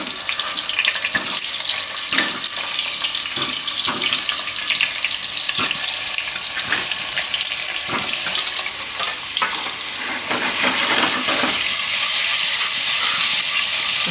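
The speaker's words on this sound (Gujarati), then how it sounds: "અને આ બટેટા જે આખા છે એને આપણે તેલમાં નાખી દઈશું." Whole potatoes dropped into hot oil seasoned with asafoetida, hissing and crackling in a steady, close sizzle with scattered sharp pops, for dum aloo cooked in a pressure cooker.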